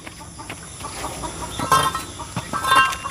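Chickens cluck in a few short, rising bursts at moderate distance over a steady, low farmyard background.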